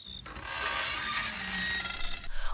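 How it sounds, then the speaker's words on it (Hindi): A slow, drawn-out creak and rasp of a wooden temple door swinging open, continuous for about two seconds before fading out. "दरवाजा धीरे धीरे खुला"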